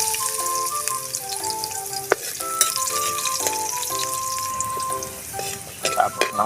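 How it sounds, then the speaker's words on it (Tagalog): Garlic sautéing in hot oil for a Filipino pork giniling dish, a steady loud sizzle and crackle close up, with occasional stirring clinks and no talking. "magigisa na tayo ng bawang."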